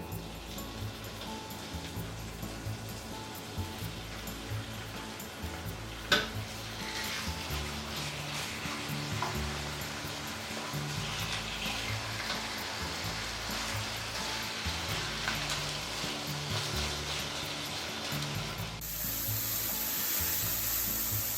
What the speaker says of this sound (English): Heat up some vegetable oil in the frying pan, about 1 tablespoon. Let's saute the chicken.